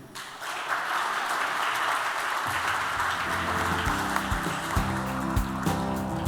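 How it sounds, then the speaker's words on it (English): An audience at a youth climate town hall in Seoul gives a big round of applause, a dense, steady clapping that carries on as music comes in partway through. "Please give another big round of applause to Mr. Chu Dae-young"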